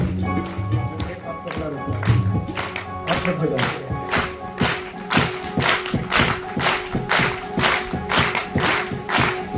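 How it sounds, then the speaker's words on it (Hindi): Rhythmic hand clapping from an audience, keeping a steady beat over devotional singing voices and a music backdrop, loud and close. "अब ताली के आवाज सुनिए।"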